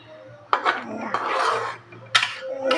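A utensil scrapes and clatters against a pan while food is stirred, in several short, close bursts with quiet pauses between them.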